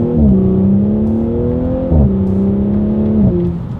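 An Audi S4 pulls hard from a standstill on paddle shifters, its engine climbing in pitch, then dropping sharply at each quick upshift, twice in a few seconds, loud and close with no talk.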